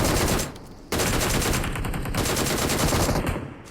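Rapid automatic gunfire in PUBG Mobile, loud close bursts of shots with a brief pause near the start before a second sustained burst rattles on to the end.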